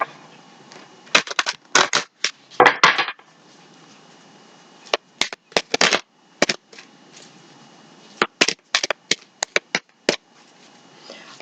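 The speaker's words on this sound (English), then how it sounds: "Give her one more shuffle" Tarot cards are shuffled in several bursts of rapid, crisp riffling and flapping, with short quiet gaps between the flurries, close up and with no talking.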